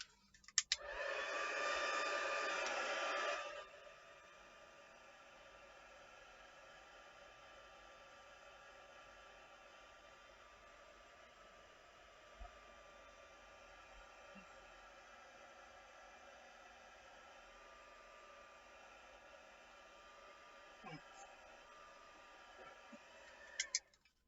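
A heat or air dryer blowing on a craft piece being made with acetate and stamps, heard as a loud steady whoosh for a few seconds, then a faint lingering hiss with occasional small knocks.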